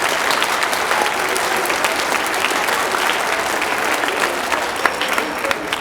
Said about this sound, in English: Let's have one more round of applause for all of the students, please.